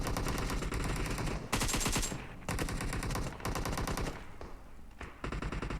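Rapid automatic gunfire in PUBG Mobile, loud and dense bursts of shots filling the whole stretch with brief gaps between volleys.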